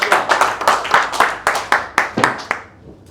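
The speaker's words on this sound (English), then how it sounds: "Everyone, with a big round of applause." A small audience claps to welcome a speaker onto the stage at a public speaking training session. The clapping is close and uneven, coming in a series of bursts before it fades out.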